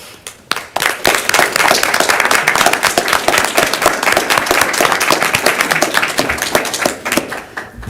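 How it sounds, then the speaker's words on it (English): Loud, dense applause and clapping from a school board meeting audience honoring a redistricting committee, starting abruptly and sustained at full strength for several seconds before easing slightly. "so we can give you one more round of applause"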